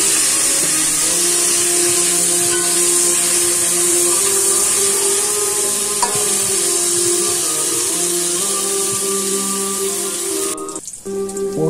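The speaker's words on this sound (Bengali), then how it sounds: "এবার ওই তেলে পটলগুলো ভেজে নিলাম।" Pieces of pointed gourd (potol), rubbed with fish masala, fry in oil after fish, filling the clip with a loud, constant crackling sizzle that runs without pause.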